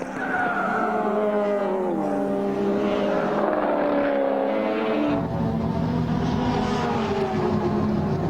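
Race cars circulating at the 1983 Bathurst 1000 endurance race, a loud steady roar of engines with shifting pitch as cars pass, heard continuously from trackside.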